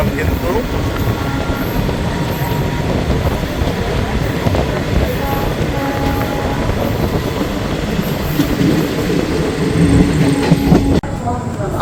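A passenger express train with 3AC coaches rolls along the rails at night, a loud, continuous rumbling with rhythmic wheel clatter and faint squeal, heard from inside the carriage.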